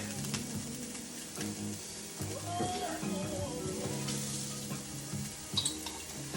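Steady sizzling of onions and garlic frying in a pan, with occasional stirring scrapes throughout.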